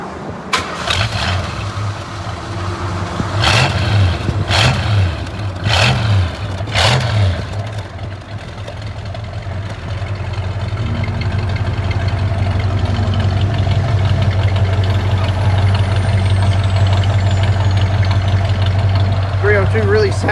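A 1965 Ford Mustang fastback's 302 V8 cranks several times in short bursts before catching, then settles into a loud, steady, rumbling idle that holds close by for the rest of the clip.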